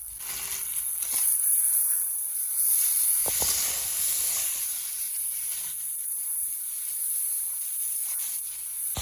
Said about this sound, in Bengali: এবার দিয়ে দিচ্ছি শুকনো লঙ্কা বাটা আর আদা বাটা